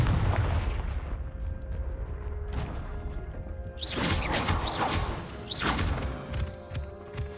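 The Confringo blasting spell is cast in the Hogwarts Legacy video game, setting off explosive bursts and crashing impacts. A quieter rumble comes first, then several loud, close blasts follow in quick succession.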